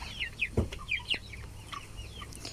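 Broiler chickens cluck inside a net-covered poultry farm coop at harvest age, a string of soft overlapping clucks and short calls over a low hum, fairly quiet with no one speaking.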